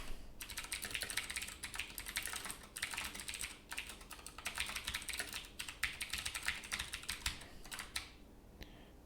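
Fast, steady typing on a computer keyboard, dense clicking keystrokes close up with brief pauses, continuing alone without any voices.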